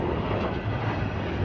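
A train passing directly over a man lying beneath it, heard as a continuous, loud, close rumble with a steady grinding roar and no voices.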